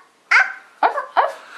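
A child imitates a dog with three short, voiced woof-like barks, each rising sharply then trailing off, spaced unevenly and close to the microphone.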